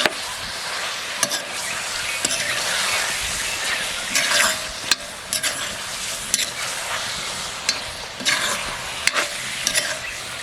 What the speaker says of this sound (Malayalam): ഇളക്കി ചേർക്കാം.